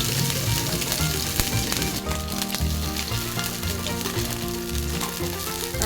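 Pork and beef frying in a little oil, a dense, steady sizzle with occasional crackles and stirring scrapes, close and continuous with no talk.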